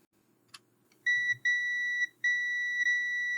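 A multimeter in continuity mode beeps while probing a shorted capacitor on a 1998 Pokémon Pokédex board: a brief click, then three sharp, clean electronic tones of steady pitch, separated by short gaps, in a quiet room.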